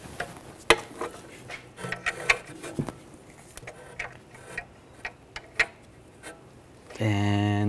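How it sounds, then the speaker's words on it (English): A 16 mm wrench loosening the top nut of a rear upper control arm on a 2006-2010 BMW 550i, giving a quiet string of irregular metallic clicks and ticks, followed by a brief steady hum at the end. "We're gonna take this top nut off. We're gonna use a 16 millimeter wrench."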